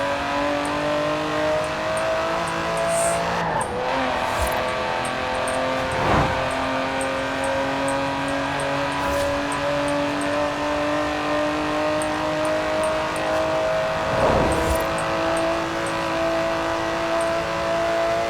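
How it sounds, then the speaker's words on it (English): Continuous car engine drone from Forza Horizon 4, steady and close with sustained harmonic tones that rise gradually as the car accelerates, plus occasional brief shifts, alone without talk. "Absolutely wonderful engine noise here."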